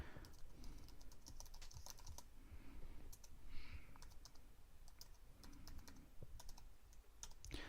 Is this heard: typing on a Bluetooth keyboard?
yes